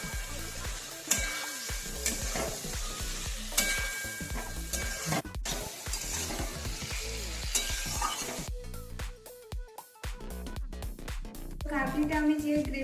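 Paneer kabuli cooked in a spiced gravy of poppy seed and yogurt, stirred and fried in a pan with steady sizzling and scraping, a few utensil clinks, and voices partly over it.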